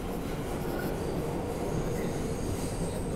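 A New York subway train rumbling along the tracks, a continuous loud low roar of wheels and cars with faint metallic squeal above it and no voices.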